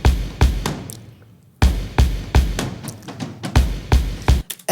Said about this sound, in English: Then I added a stadium kick to layer that,